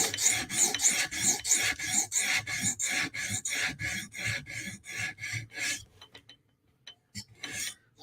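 A knife blade, either a Para 3 or a Benchmade 940, is drawn across a stone on a TSProf Kadet guided sharpener in about a dozen rhythmic, close rasping strokes, then a few lighter scrapes and taps.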